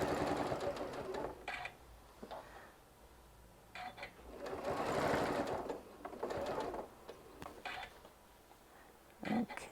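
A sewing machine stitches a fabric caddy project in several runs of fast rhythmic needle clatter, with pauses, small clicks and handling noises in between, heard close up.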